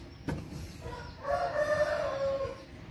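A gà mơ rooster crows once in a drawn-out call midway through, heard over steady yard background and faint clucking from other chickens.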